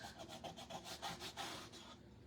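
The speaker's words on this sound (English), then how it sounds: "And we're just going to scrape and scrape and scrape." Paint being scraped off a Halloween decor piece: a faint, repeated rasping scrape in a quick back-and-forth rhythm, close by, with no voices.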